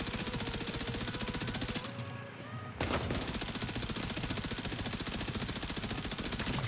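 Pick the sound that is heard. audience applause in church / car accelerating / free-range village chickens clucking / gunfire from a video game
gunfire from a video game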